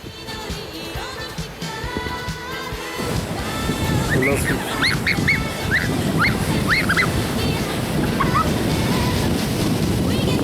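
Beach surf washes and rumbles steadily along the water's edge, growing louder partway through, with wind buffeting the microphone and high honking calls over it.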